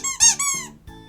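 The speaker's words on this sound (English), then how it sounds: "Frank, it's your squeaky toy." A dog's squeaky toy squeaks in a few loud, close, high-pitched bursts, each with a wavering rise and fall, followed by a softer squeak after a brief gap; nothing else is heard.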